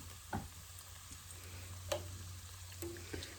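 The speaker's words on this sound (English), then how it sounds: "I cut them up very thinly here. We're just going to lay them in here. Fry them up individually." Thin sweet potato slices frying individually in a pan give a soft, steady sizzle, with a few light clinks and taps from the cookware, fairly quiet and without talk.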